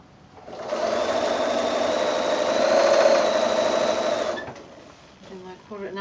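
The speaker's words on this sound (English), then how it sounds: "And I'm going to come along and sew just my 1/4 inch seam allowance." A sewing machine runs a 1/4 inch quilt seam on a border, a loud steady mechanical whir lasting about four seconds before stopping, with a voice talking just afterward.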